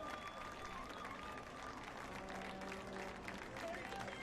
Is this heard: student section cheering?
yes